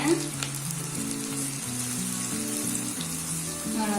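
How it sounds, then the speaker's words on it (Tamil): Pakoda batter fries in hot oil over a medium flame, giving a steady, loud sizzle and crackle for the whole stretch, with a tonal background hum running underneath. "எண்ணெய் நல்லா சூடானோன்னா மீடியம் ஃப்ளேம்ல வச்சுட்டு பக்கோடா மாதிரி நம்ம உதுத்துக்கலாம்."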